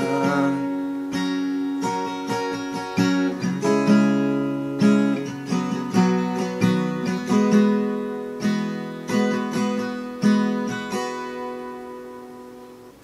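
Acoustic guitar with a capo strums the pre-chorus chord progression of a worship song, with steady rhythmic strokes ringing out clearly and alone.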